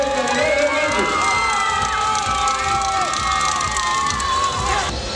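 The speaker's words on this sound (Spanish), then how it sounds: "El aplauso para Dulce María Candelaria Hernández." An audience at a carnival queen pageant in Mixquiahuala cheers, shouts and claps loudly in a dense, continuous burst of crowd noise.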